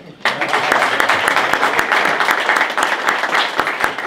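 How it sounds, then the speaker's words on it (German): Brief applause from a small audience in a barn venue, a steady patter of hand claps starting abruptly and continuing evenly at close range. "Kleiner Applaus"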